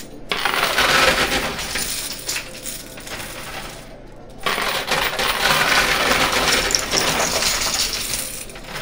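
Coins clatter continuously inside a high-limit coin pusher machine with a poker chip wall, a dense, loud metallic cascade that breaks off briefly midway and then resumes.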